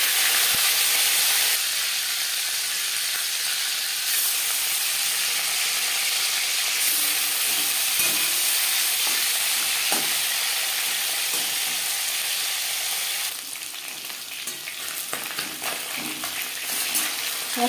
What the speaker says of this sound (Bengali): 4-5 চামচ রিফাইন্ড অয়েল গরম করে নেওয়ার পর প্রথমে দিয়ে দেব মাছের মাথা, আর দিয়ে দেবো মাছ।